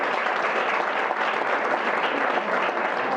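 An audience at a festival presentation claps in dense, steady applause that lasts throughout.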